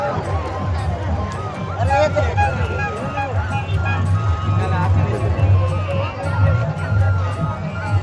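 Dense crowd hubbub at the Devgadh fair in Ambikapur, with loud continuous babble of many voices and shouting nearby, steady throughout with no pauses.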